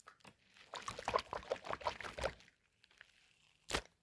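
A squishy balloon toy filled with hot water is squeezed in the hand, giving a series of close wet sloshing and squelching pulses, then a pause and one last squish.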